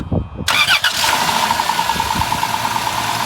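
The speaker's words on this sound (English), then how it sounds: "seems to fire up and makes normal Dodge noises." A Dodge car engine cranks briefly, catches, and settles into a steady running idle close by.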